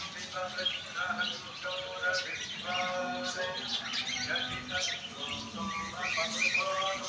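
Birds chirp and tweet in quick bursts in a temple ashram garden in Kakinada while a person talks nearby, the calls scattered throughout.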